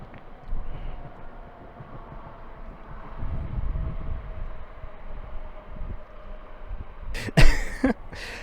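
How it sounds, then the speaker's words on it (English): A train passes at a distance, a low rumble that swells and fades for several seconds, with a brief sharp noise burst near the end. "We got another train."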